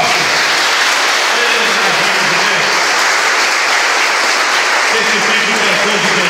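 A church congregation claps loudly and steadily together for several seconds, a dense, continuous wash of applause with no voices standing out.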